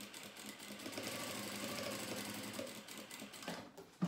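A sewing machine runs steadily and close by as it stitches fabric, with a rapid mechanical chatter. It slows near the end and stops with a knock.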